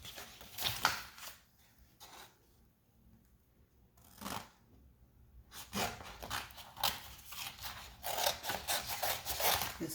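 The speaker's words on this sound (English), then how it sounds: "this is me trying to cut my vinyl down so I can weed it out" Scissors cut vinyl for a Cricut craft project, giving faint crisp snips and rustles in several bursts, with a quiet pause partway through and denser cutting toward the end.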